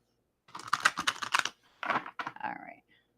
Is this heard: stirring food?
no